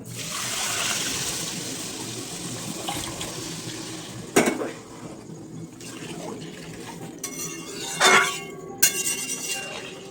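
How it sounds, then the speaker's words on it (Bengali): Water runs and splashes into a cooking pot, with a rushing pour at the start, then quieter gurgling, a couple of clinks and bursts of pouring later. "এবার জলটা দিয়ে দেবো।"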